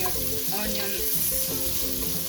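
Onions sizzle and fry in a pan for beef pilau, a constant close hissing crackle with faint stirring, no talk.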